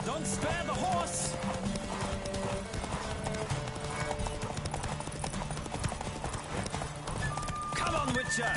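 A horse gallops at full speed during a race in The Witcher 3, its rapid hoofbeats drumming steadily up close, with a neigh or two, mixed with music and talking voices.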